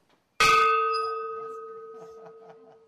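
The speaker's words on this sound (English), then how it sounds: "was asked to ring the historic bell" A single loud strike of a historic mission bell at Mission San Luis Rey rings out sharply, then its clear metallic tone hangs and slowly fades over a few seconds, with faint background murmurs.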